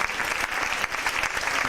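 Audience applause following a performance on a travel variety show, a brief burst of dense, steady clapping throughout.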